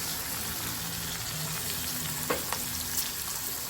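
Onion frying with chilies in a pan, a steady close sizzle with a few light clinks and stirring scrapes, no voices.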